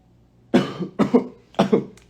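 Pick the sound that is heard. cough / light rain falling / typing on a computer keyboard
cough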